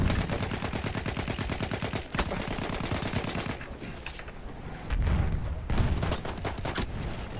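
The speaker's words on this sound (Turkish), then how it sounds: "Makinalı tüfek." Machine-gun fire in Battlefield 1 rattles in long, loud, rapid bursts, with a brief pause near the middle before resuming.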